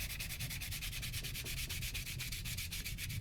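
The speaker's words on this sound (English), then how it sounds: "Sand the top very quickly." Pallet wood is sanded by hand in quick, rhythmic back-and-forth strokes, a steady close rasping with no voices.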